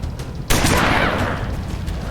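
A single loud, close shotgun blast in XCOM 2 after a short quiet lead-in, followed by a long, noisy tail of echo and debris.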